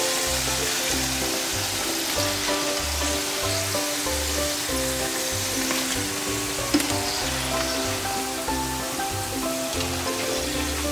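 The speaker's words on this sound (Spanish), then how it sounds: "Al darle este segundo golpe de fritura, las patatas quedan muchísimo más crujientes." Potato chips sizzle loudly in deep oil during their second fry for fish and chips, a dense, continuous crackling hiss with no voices over it.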